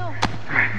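A gunshot in an episode of The Last of Us: two brief, sharp bangs a moment apart over a low steady hum, moderately loud and close.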